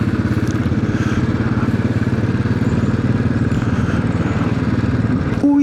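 A Royal Enfield Classic 500 motorcycle engine thumps with a steady, loud, rapid single-cylinder pulse, close up and continuous, ending with a brief tonal shift.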